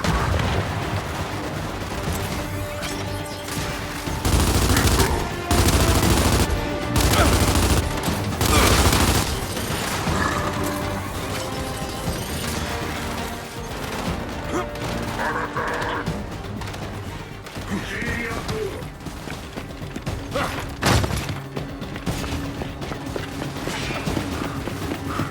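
Gunfire and grenade explosions in the video game Gears 5 erupt in dense, loud bursts with booming blasts, while in-game voices call out over the chaos.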